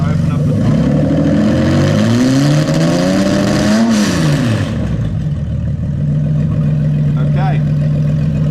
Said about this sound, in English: you'll see as I open up the throttle